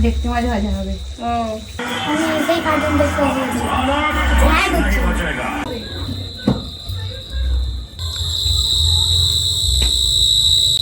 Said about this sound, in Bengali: আস্তে আস্তে সন্ধ্যেই হয়ে গেল ঝিঝি পোকা ডাকতে শুরু হয়ে গেল